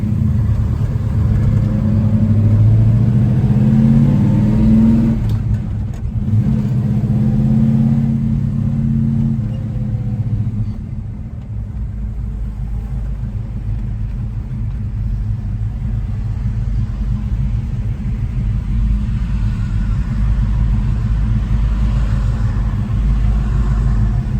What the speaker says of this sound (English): we're going to take the Chevelle for a test drive and see how it does